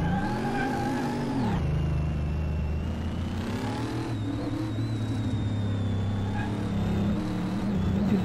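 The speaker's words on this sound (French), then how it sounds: "Le son du moteur c'est encore plutôt raisonnable. Petit coup de gaz, ça part tout de suite hein." A Mercedes engine in Car Mechanic Simulator revs up sharply, then holds a steady, loud drone with a whirring tone, staying close and continuous.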